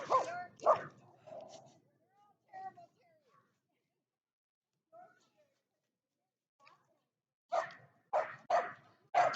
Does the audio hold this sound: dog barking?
yes